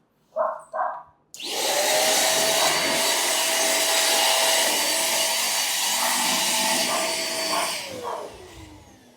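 A Deerma DX115C portable vacuum cleaner, rated at 600 watts, runs loudly and steadily for several seconds after two brief sounds, its close whining roar winding down at the end, with no talk over it.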